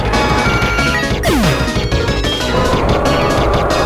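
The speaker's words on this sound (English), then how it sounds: "I use Head Smash, Rampardos' most powerful move." Rampardos using Head Smash in Pokemon SoulSilver, a loud chaotic game sound effect with a crashing impact and a sharply falling swoop, over continuous battle music.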